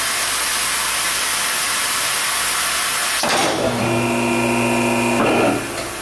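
A shop car lift lowers a 1971 Chevelle SS 383 with factory AC: a loud broad hiss gives way to a sudden release, then a whining mechanical drone with steady tones that cuts off near the end.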